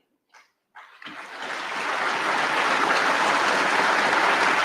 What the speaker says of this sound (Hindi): आप ये समझकर तालियां मत बजाओ